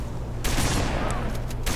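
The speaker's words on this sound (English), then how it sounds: "We're trading shotgun blows." Shotgun fire in Halo Reach or Halo 3: a loud blast hits early and roars on as heavy sustained noise with a few further sharp reports near the end, no one speaking.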